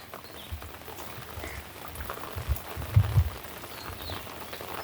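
Steady soft patter of light rain at Devgad harbour, with a few louder drops and knocks near the end; no voices.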